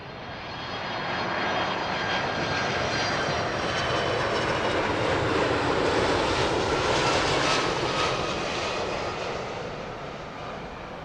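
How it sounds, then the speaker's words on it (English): A Delta Boeing 767-400 arriving from JFK lands at Heathrow with a loud, sustained jet-engine roar that swells and then eases slightly over eleven seconds, with no voices. "Delta 1 there with a perfect touchdown. That one a 767-400."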